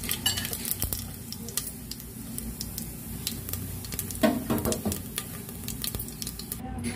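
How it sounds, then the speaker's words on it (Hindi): Oil crackles and sizzles steadily as bay leaf and cumin temper in a hot pan, with a few clicks of a utensil against metal and no talking. "अब हम तेज पत्ता डालेंगे, तड़के के लिए तेज पत्ता और हम जीरा के तड़का देंगे।"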